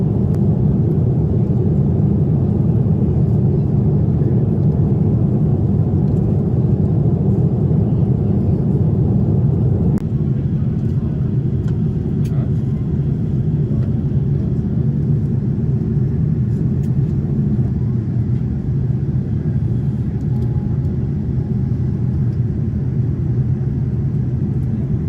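Steady low roar inside the economy cabin of a Singapore Airlines Boeing 787-10 during a bumpy descent into Singapore, a loud continuous engine and airflow rumble with a few faint clicks and rattles, no talking.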